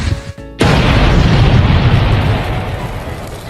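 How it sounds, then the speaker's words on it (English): A sudden loud cartoon boom as Squidward from SpongeBob crashes his bike, a brief sputter and cutoff just before it, then a rumbling blast tail that fades slowly. "You're telling me Squidward exploded after falling off his bike?"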